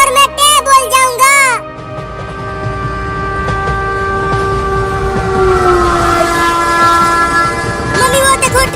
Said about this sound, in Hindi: मम्मी वो देखो ट्रेन आ गई